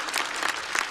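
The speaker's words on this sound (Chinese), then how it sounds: "来，再次掌声送给海波" Audience applause at a stand-up comedy show, a dense, close burst of clapping filling the short moment without speech.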